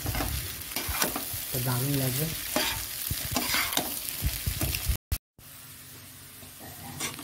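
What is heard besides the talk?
potatoes frying and being stirred in a pan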